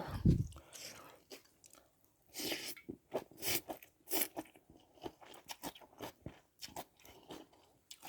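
Close, crunchy bites and chewing of a spicy glass noodle salad with minced pork and crisp cucumber, irregular bursts of crunching with quiet talk in between.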